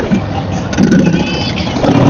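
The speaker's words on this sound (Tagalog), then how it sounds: "May kotse ah, kotse." A car engine drones and rises nearby as the vehicle approaches and moves past on a road during a motorbike ride, loud and close with wind noise.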